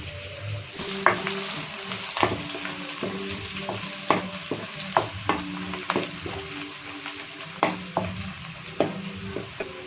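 Onions fry in a pan until brown, giving a steady close sizzle broken by regular scraping strokes of a spoon stirring them.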